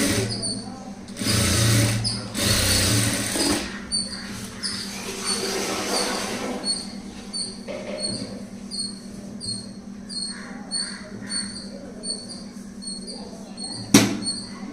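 A sewing machine top-stitches layered blouse fabric in short bursts of running, followed by lighter intermittent ticking and a sharp click near the end.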